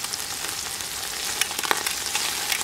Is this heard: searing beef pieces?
yes